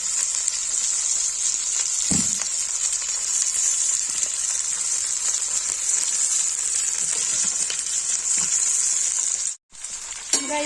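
Lotus stem (nadru) pieces fry in a pan for Kashmiri palak nadru, giving a steady, close, bright sizzle throughout, broken by one brief silent gap near the end and a few faint stirring knocks.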